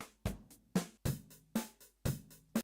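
A drum kit from Ableton's Session Drums Club pack plays a steady groove, with five or six strong kick and snare hits spaced about half a second apart, lighter hi-hat ticks between them, and no voices.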